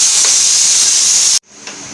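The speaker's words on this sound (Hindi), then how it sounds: "और कुकर में भी सीटी लग गई।" Pressure cooker whistle in a home kitchen, a loud continuous steam hiss sounding alone for over a second before cutting off sharply, followed by faint kitchen noise.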